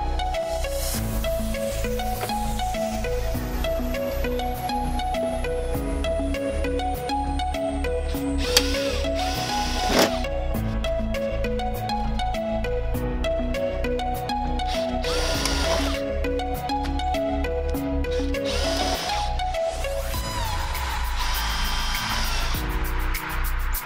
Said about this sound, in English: we're going to drill the rivets out on that and take that one out